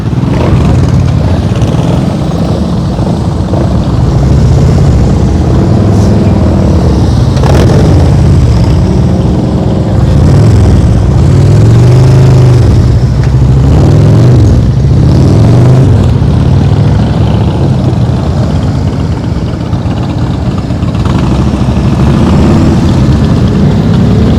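A motorcycle engine revs and surges under throttle during slow-speed riding practice, a loud, continuous rumble that rises and falls in repeated swells with no pause.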